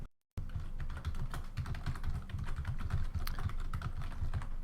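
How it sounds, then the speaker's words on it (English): Rapid clattering keystrokes on a computer keyboard carry on steadily for several seconds, close but fairly quiet, with no talk over them. "I can tell you what I'm typing"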